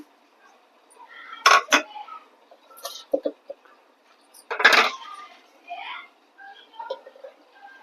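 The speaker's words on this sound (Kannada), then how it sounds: "ಮಿಕ್ಸಿ ಜಾರ್ಗೆ ಇದು ಮಸಾಲೆ ಎಲ್ಲ ಹಾಕ್ಕೊತೀನಿ" Spices dropped into a mixer grinder jar for chicken curry, heard as several close, sharp clatters and rattles in separate bursts with quiet gaps between.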